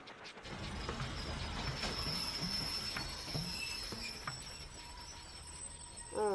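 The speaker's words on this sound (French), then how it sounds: "On dirait que le wagon arrière va se détacher. Freine, Troy" An animated cartoon train brakes with a long metallic squeal of wheels on the rails, high-pitched screeching over a rumbling rolling clatter at moderate volume.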